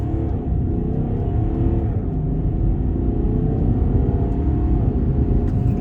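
A heavy 2022 BMW 730d xDrive G11 diesel saloon accelerates, giving a steady, moderately loud engine drone with rising harmonic tones layered over road rumble, heard from inside the car without talk.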